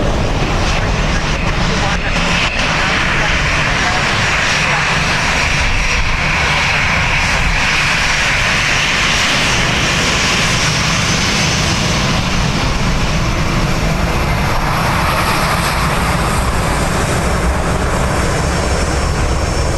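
Aircraft engines at Dublin Airport, caught by a fence-mounted microphone in front of the aircraft, roar loud and steady for the whole stretch with a broad rushing tone that swells slightly toward the end.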